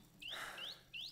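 Three rising, whistled bird chirps repeat at a steady pace in Ad Infinitum, a First World War horror video game, clear and fairly close over a soft wash of background noise.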